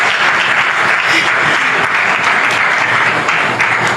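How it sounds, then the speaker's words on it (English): Steady, dense applause from a large crowd at a church healing service, loud and continuous throughout with no pauses. "Clap for Jesus Christ."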